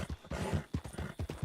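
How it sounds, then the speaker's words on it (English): Horse hooves clip-clop in a quick, steady rhythm, each hoof strike a close, distinct knock. "Is there a horse over there?"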